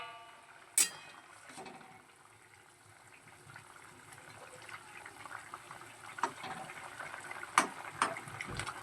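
Vegetables simmer in a pot for Bengali matar dal bora tok, giving a quiet, uneven bubbling with faint watery gurgles and a few sharp clinks of utensils against the pot.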